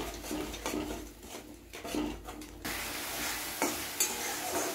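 Ground spices fry in oil in a pan, a spoon scraping and stirring through them over a steady sizzle. The frying grows louder and denser partway through, with occasional clinks of metal on the pan, close and without talking.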